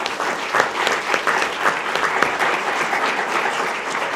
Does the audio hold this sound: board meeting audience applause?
yes